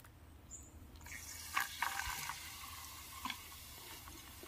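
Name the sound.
water poured onto calcium carbide in a cup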